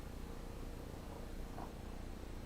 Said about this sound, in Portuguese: A minha gata.